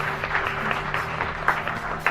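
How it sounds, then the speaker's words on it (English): An indoor audience claps in a steady, moderately loud patter of many hands, continuous throughout with a few sharper individual claps standing out. "clap for Justin"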